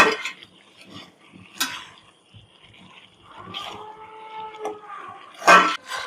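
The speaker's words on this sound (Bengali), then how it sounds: "এখন কচু শাকটা সুন্দর করে নাড়াচাড়া করতেছি" Taro leaves are stirred in a wok, with soft scraping and scattered clinks of a utensil against the pan, a couple of sharper knocks, and a faint hum in the background.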